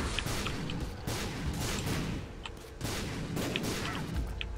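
Bomb blasts from The Binding of Isaac Afterbirth+ video game, several loud booming explosions going off in quick irregular succession with brief bright crackles between them.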